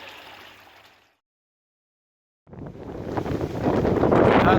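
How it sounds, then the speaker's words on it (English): Strong wind buffets the microphone outdoors, a heavy roaring rush that fades out, drops to near silence, then returns louder and keeps building toward the end. "I've had this wind for about 3 days now"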